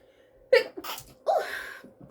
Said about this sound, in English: I thought I had to sneeze